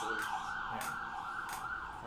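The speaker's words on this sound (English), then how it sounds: "that is a police siren because um, each one's different." A police siren from the TV show Firefly wails in a steady, sustained tone with a faint pulsing rhythm, heard at moderate distance beneath a low background murmur.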